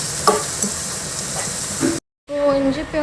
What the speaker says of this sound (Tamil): ஸோ இப்போ வதக் வதக் வதக்.